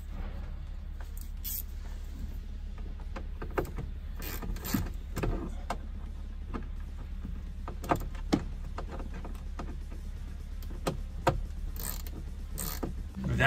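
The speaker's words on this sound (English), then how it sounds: "So we're gonna go ahead and loosen these T20s." T20 screws being loosened on the interior trim of a BMW during a CIC navigation retrofit, a series of small close clicks and taps from the tool over a low steady hum.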